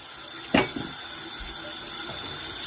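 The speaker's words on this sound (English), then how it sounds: "Water rinsing through." Warm tap water runs steadily into a sink while CPAP parts are rinsed, a continuous close splashing stream with one brief knock near the start.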